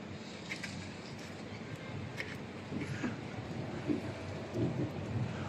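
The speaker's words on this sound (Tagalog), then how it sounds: "Naklaro kayong ulan." The first rain of 2023 falls in Abu Dhabi as a steady broadband wash of rainfall with a low rumble of thunder beneath, fairly constant and moderately loud, with a few faint voices mixed in.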